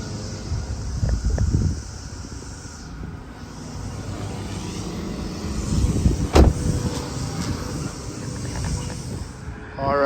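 A cold 1997 Nissan Stagea idles quietly in the background under light wind buffeting and a few handling bumps, with a brief sharp knock midway.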